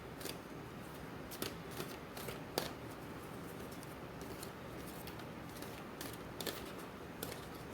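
Tarot cards are shuffled repeatedly, giving soft, quick riffling snaps and flutters at close range, with no voices.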